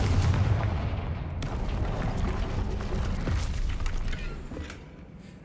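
A Confringo fire spell explodes in Hogwarts Legacy with a loud, rumbling blast and a fiery roar that fades out over a few seconds.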